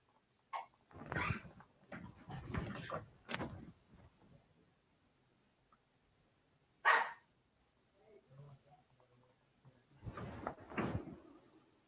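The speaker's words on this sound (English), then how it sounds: "and I didn't even know that they have a dog." A single sharp dog bark rings out clearly in a quiet room, set between stretches of conversation, with faint household clatter nearby.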